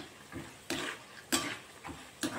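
Urad dal, cumin and mustard seeds crackle in hot oil as a tempering, with soft sizzling broken by a few short bursts as the pan is stirred, close and fairly quiet.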